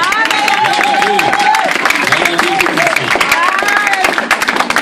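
A church congregation claps and cheers in acclamation of the Lord, a dense, continuous patter of hands under loud sung and shouted voices.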